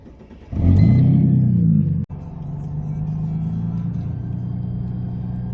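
Mercedes SLK32 AMG with Enkei RPF1 wheels and a transmission tune accelerating hard on a test pull, a loud engine roar that surges, breaks briefly at a gear change, then continues as a steady droning rumble.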